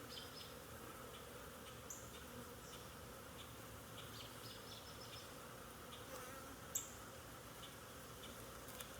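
Honeybees buzz around an open hive during a frame check, a faint, steady droning swarm with a few small ticks and clicks near the frames.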